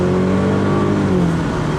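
A 2017 Mercedes-Benz C 200 AMG Line 4Matic Cabriolet accelerating on an open road in Switzerland, its engine drone steady and loud, with a smooth, rising hum and no pauses.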